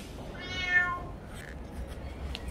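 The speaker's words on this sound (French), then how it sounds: "Zé, le chat qui proteste." Zé, the cat at a Lisbon wine bar, lets out one clear, close meow of protest, followed by quiet room noise.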